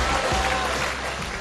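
Brief, steady applause from a studio audience on a Chinese antiques appraisal show, a dense wash of clapping lasting under two seconds.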